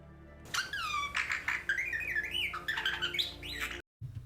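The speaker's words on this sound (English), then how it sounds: "And this is the sound that a bird makes." A bird gives a rapid run of squeaky, warbling electronic-sounding whistles that sweep up and down like R2-D2 beeps, loud and close, with short gaps between the phrases.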